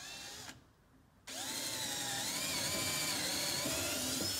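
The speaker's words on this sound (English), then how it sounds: "I'm gonna drill the hole down through" A power drill with a paddle bit bores a hole at close range, whirring steadily, stops briefly, then starts again and keeps running with a high, wavering mechanical whine.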